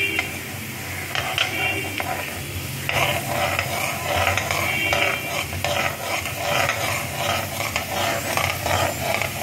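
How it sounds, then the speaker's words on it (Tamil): Small onions and garlic sauté in a pan for tomato thokku, crackling steadily while a utensil stirs and scrapes in repeated bursts. "பூண்டு வதங்கிடுச்சு"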